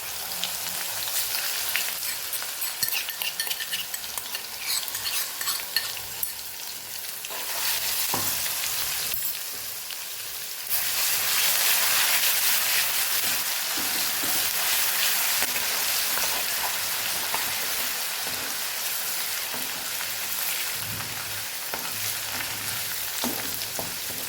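Ginger-garlic paste with cumin, dried red chillies and asafoetida sautéing in hot oil in a pan, giving a steady close sizzle and crackle that swells partway through, with faint stirring and no talk.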